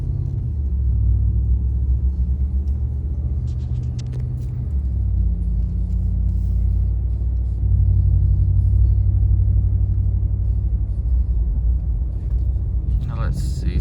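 Steady low engine rumble and road noise from inside a car driving around at night, close and continuous with no talk, a few faint clicks near the end.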